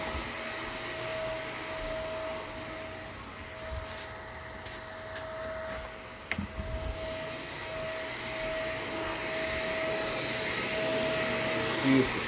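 A Shark LA702 corded vacuum cleaner runs steadily with a constant whine and airy roar, interrupted midway by a few knocks and clatters as the cord catches, then resuming evenly.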